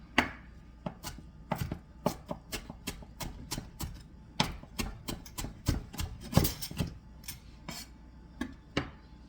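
A knife chops parsley on a cutting board in quick, irregular bursts of crisp thuds, close and fairly loud, with no talk over it.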